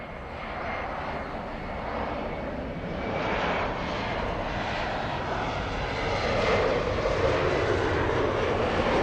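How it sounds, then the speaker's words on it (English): Alaska Airlines Boeing 737 on its takeoff roll at Los Angeles airport, a loud steady roar of jet engines that builds gradually and holds, with no talking. "Let's go for the Alaska Airlines 737 on the roll."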